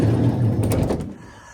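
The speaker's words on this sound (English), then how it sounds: "Right, let's go through the side door." A van's side door slides open, with a rumbling scrape and a few rattling clunks, fairly close, then fading to quiet.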